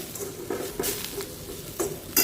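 Cooked brinjal and ground spice powder are sautéed in a pan for Karnataka vangi bath, with soft scraping stirs and light clinks of a spoon against the pan over a faint sizzle.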